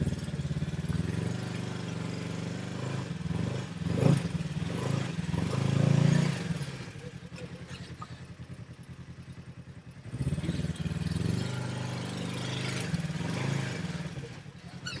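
An off-road vehicle engine crawls slowly over a rock on a tight night trail, a steady close mid-pitched rumble that swells briefly twice, then eases back to a low idle-like drone.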